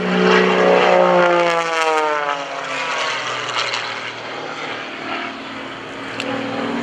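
A 400-horsepower aerobatic propeller plane's engine roars loudly at an airshow, its pitch sliding downward and then settling into a strained, fluctuating drone as it performs rolls overhead.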